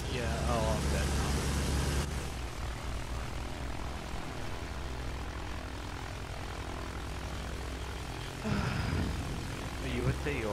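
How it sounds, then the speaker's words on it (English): A bomber plane drones overhead in the Battlefield 1 video game, a steady propeller engine hum for about ten seconds, with brief louder bursts at the start and near the end and a voice speaking over it. "I'm about to jump out the bomber plane now"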